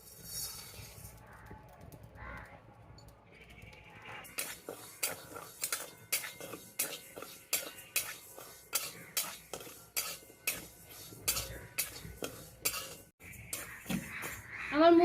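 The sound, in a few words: stirring moong dal frying in a pan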